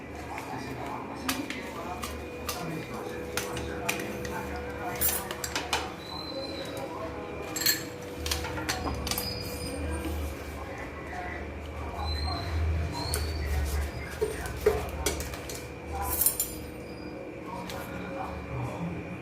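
Metal pans and utensils clank and clink in a kitchen, with scattered sharp knocks while a person talks throughout.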